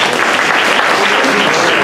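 An audience applauds after a talk, with dense, loud clapping that holds steady for the whole short stretch.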